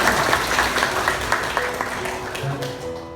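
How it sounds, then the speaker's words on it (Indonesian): Staff of an Indonesian education ministry training centre in Cianjur give a room-wide round of applause, strong at first then thinning out, with a voice starting to speak near the end. "Ya, boleh tepuk tangan buat Bapak Ibu semua."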